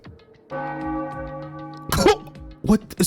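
A bell ringing in a bell tower in Super Danganronpa Another 2, a sustained tonal chime with layered overtones that rings steadily, broken near the end by two short vocal bursts like coughs.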